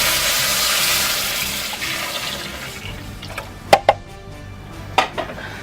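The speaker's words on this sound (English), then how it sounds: "Now we're going to add 4 cups of milk to this." Four cups of milk pour into a pan in a steady rushing stream that fades over a few seconds, followed by a few sharp clinks of the pan or container, close up.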